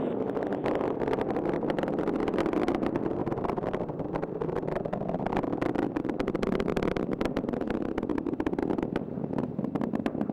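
Rocket engines roaring during the TDRS-L launch ascent, a loud, continuous broadband rumble with crackling texture that holds steady throughout without pause.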